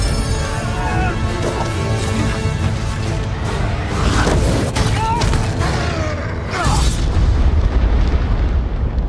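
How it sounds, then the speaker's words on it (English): A dragon's film-effect rumble, like an earthquake: a loud, dense, deep roar that runs steadily for about nine seconds, with crashing bursts and swells layered through it and no talking. "That, my lad, was a dragon."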